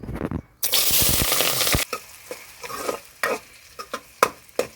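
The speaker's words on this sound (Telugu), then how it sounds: "ఇప్పుడైతే కాగింది ఉల్లిగడ్డలు పచ్చిమిరపకాయలు వేద్దామండి" Onions and green chillies drop into hot oil in a pan and sizzle loudly at once, the frying hiss filling the first seconds, then settling into quieter crackles broken by sharp stirring scrapes.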